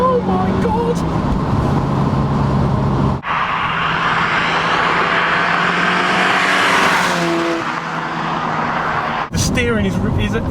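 Ford RS Cosworth or Focus RS with a 2-litre turbocharged engine and 5-speed gearbox being driven hard, a loud, sustained engine roar rising and falling with gear changes, close up, with brief breaks between runs.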